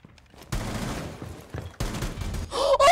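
Rapid bursts of automatic gunfire in the tactical shooter game Rainbow Six Siege, loud and close, broken by brief pauses, with a higher-pitched in-game effect rising at the end.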